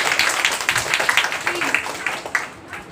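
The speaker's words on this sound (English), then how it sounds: "This clap for her." A classroom of children claps in brisk, fairly even strokes for a classmate, with voices mixed in as the clapping tapers off near the end.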